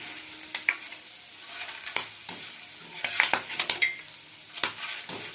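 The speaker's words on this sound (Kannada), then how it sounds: "ಕೇರ್ಫುಲ್ಲಾಗಿ ಇದನ್ನು ಎಣ್ಣೆಯಲ್ಲಿ, ಕಾದ ಎಣ್ಣೆಯಲ್ಲಿ ಡೀಪ್ ಫ್ರೈ ಮಾಡ್ಕೊಳ್ಳಿ" Sabudana deep-fries in hot oil, crackling and hissing underneath while a spoon repeatedly clinks and scrapes the pan in irregular sharp bursts, no voices.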